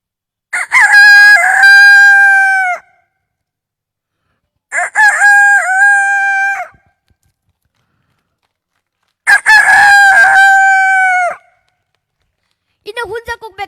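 A man mimics a rooster crowing at sunrise on a comedy stage: three loud, long crows a few seconds apart, then the start of a fourth, with silence between them.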